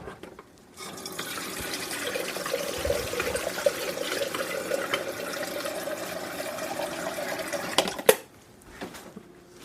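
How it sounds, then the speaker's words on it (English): Tap water pours steadily into a coffee machine pot for several seconds, a moderate hissing fill that ends with a sharp clunk as the pot is set down, followed by quiet. "And I'm going to grab the pot. And we're going to fill it with water."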